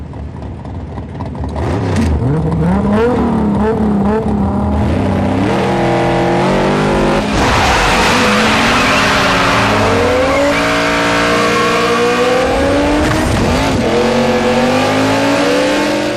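A 4WD pulls away hard from a standstill on a Flinders Ranges track, engine note climbing steadily and loudly through rising revs and gear changes, close and alone with no talk.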